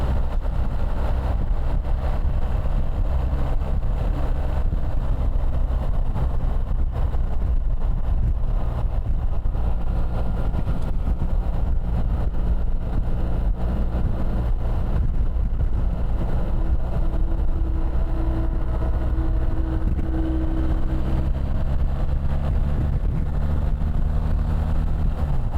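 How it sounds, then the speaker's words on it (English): A BMW R 1300 GS motorcycle engine drones steadily while riding, its pitch rising and falling slightly with the throttle under constant wind rush, loud and continuous with no talk. "I'm going to let you enjoy a bit of the engine sound over here."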